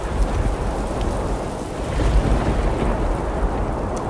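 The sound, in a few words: heavy rain and strong wind, audio story effect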